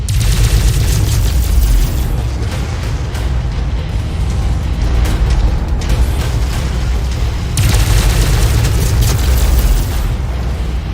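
Mech weapons fire and explosions in MechWarrior 5: Mercenaries, a relentless, very loud barrage of booms, bursts and heavy impacts packed densely from start to finish with no pause.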